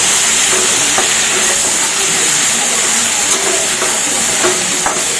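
Greens sizzle steadily in a pan over a low flame for a Tamil thoothuvalai thuvaiyal, a dense continuous frying hiss with occasional soft stirring clicks and scrapes throughout.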